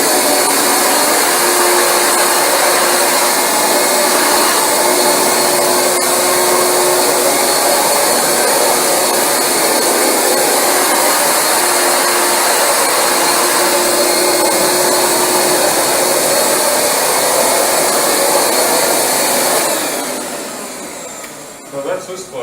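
Rug Doctor carpet cleaning machine running steadily over carpet with a loud, continuous motor whine and suction hiss that holds for about twenty seconds, then cuts off and tapers toward the end.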